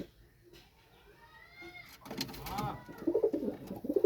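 Pure-bred pigeons, a prized Kalanka and others, cooing softly then more loudly in a loft, with rustling and a few sliding, creaking noises around them.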